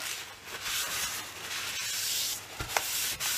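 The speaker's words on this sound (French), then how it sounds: "Nous, ce qu'on fait, on scrape." Steady, rough, broadband scraping continues throughout, close and fairly loud, with a few brief knocks and sharper strokes toward the end.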